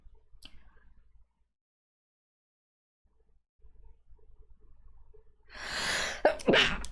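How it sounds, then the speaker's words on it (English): A single sneeze bursts out near the end, loud and close, preceded by a brief gasping inhale, after a long quiet stretch with faint background rumble. "I have to sneeze."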